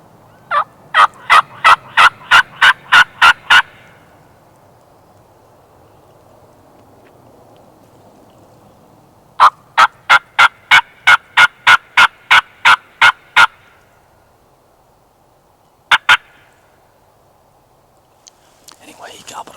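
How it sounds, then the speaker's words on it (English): Wild turkeys gobbling in the woods, a long rapid series of sharp clicking pulses, then a second series after a pause and a brief final burst. A low whispering voice is heard during the quieter stretches. "Several birds in the area gobbling"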